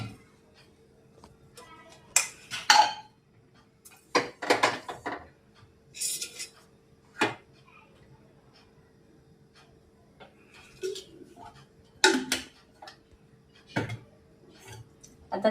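A metal kadhai set on a gas stove with oil poured in for frying balushahi, giving scattered clanks, taps and scrapes with quiet gaps between them.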